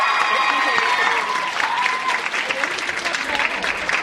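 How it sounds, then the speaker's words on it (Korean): Loud, close crowd applause at a Korean event interview, a dense wash of clapping throughout, with whistling or cheering tones layered over it early on and no speech. "큰 박수 부탁드립니다."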